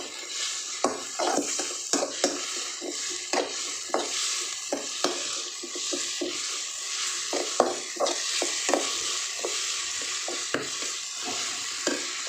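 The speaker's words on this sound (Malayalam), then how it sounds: "ഇതൊന്ന് നന്നായിട്ട് മൂത്ത് വരുന്നവരെ ഒന്ന് വഴറ്റി കൊടുക്കുക" Ginger, garlic and fennel paste sautéing in a pan for a coconut-milk chicken roast, a steady oily sizzle broken by frequent scraping stirs of a spoon against the metal, close and continuous with no talking.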